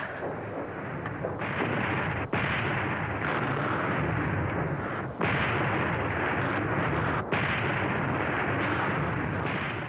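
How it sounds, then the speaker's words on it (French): Heavy First World War artillery fire rolls continuously in a dense, loud barrage, with a few sharp blasts breaking through the constant roar. "Artillerie, schießt zu kurz."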